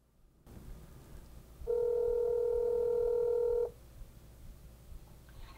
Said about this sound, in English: in just a few seconds, I'm going to be connected with my Grandma Van Persum.